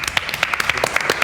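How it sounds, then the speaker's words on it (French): A studio audience gives a short burst of clapping for a quiz team on a French game show, many hands patting briskly for just over a second. "9 points, on peut déjà les applaudir."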